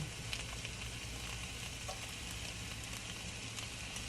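Roughly chopped Kalamata olives sizzle in a hot pan for puttanesca, making a quiet, even frying hiss with faint crackles throughout and no voices.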